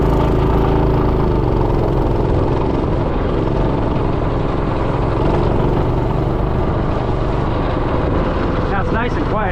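Minibike fitted with a Predator 212 engine riding over dirt on dirt tires, a loud steady motor drone close by throughout, with speech on top.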